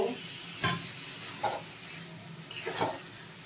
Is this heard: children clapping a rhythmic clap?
no